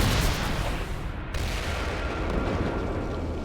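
A huge gunpowder explosion, with cannonballs and cartridges, roars in a sustained, heavy rumble with crackling debris, loud and dense throughout, with no voices.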